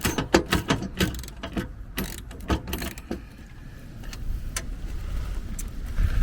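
A hand ratchet tightens a nut on the mounting bracket of a camper footboard to the chassis, a quick series of sharp metallic clicks in bursts, then slower cranking with a low rumbling background.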